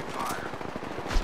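Rapid automatic gunfire in the battle-royale game Apex Legends, a short chattering burst with a heavier thump near the end, over faint background noise.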